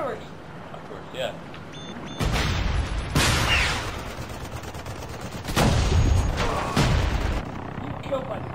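Gunfire and explosions in the war shooter Frontlines: Fuel of War, with bursts of shots and booms at varying distances over steady battle noise.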